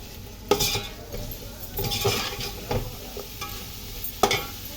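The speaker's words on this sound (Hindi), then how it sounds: "चिकन हमारा चला गया तो अब इसको भूनेंगे मसाले के अंदर" Chicken sautéed in a spiced masala for biryani, with a soft continuous sizzle and intermittent sharp clinks and scrapes of a spoon stirring against the pot, close up, no talking.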